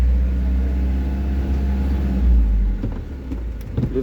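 A manual truck's engine drones in a low, steady rumble during a driving lesson, holding fairly constant and lifting slightly as it accelerates, with a few knocks toward the end.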